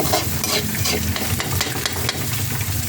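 Ground meat sautéing in a pan for a sautéed cabbage dish, with a steady close sizzle and frequent scraping stir strokes throughout, no voices.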